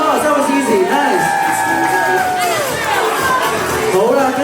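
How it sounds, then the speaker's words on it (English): Wedding guests cheer and clap loudly in a hall, a dense, continuous crowd roar with shouting and whoops and voices rising over the applause. "They got it out, give it a round of applause."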